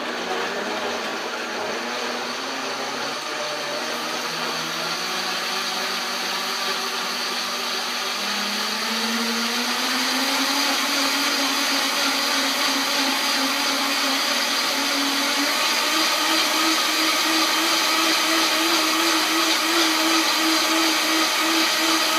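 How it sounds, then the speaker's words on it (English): A blender purees a green smoothie, running steadily and loudly from start to finish, its motor pitch climbing slightly as the mixture turns smooth, with no talk over it. "On your blender, you may have a presetting that you can push that's specifically meant for blending things into a liquid"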